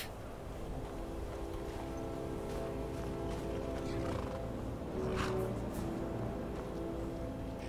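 A horse in the Skyrim video game snorts and whinnies among soft hoof clops, fairly faint and mixed into a dense rumbling outdoor game ambience with no talking.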